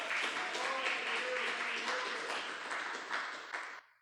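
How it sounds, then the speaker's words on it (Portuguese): A church congregation claps together during a sermon, a thick and steady round of applause that thins and fades out over the last second. "Vamos aplaudir bem forte ao nosso Senhor."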